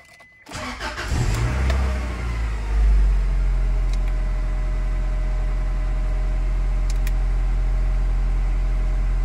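A car with a 5-speed and 225,849 miles cold-starts: a sharp crank and catch, a brief rev swell, then a steady, close, low idle hum that holds to the end, with faint clicks.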